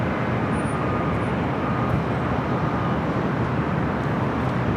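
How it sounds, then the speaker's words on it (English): Airbus A350-900 airliner departing Los Angeles LAX for Atlanta, a steady broadband jet roar heard at a distance, continuous and even throughout with no talk. "That is the flight heading to Atlanta, A350-900."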